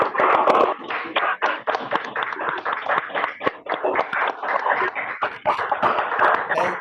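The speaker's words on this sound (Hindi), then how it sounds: "अब ताली बजा रहे हो तो अनम्यूट करके बता दो सारे" Several participants on an online call clap after unmuting, a dense, uneven patter of claps and taps over a compressed call line, with faint voices mixed in.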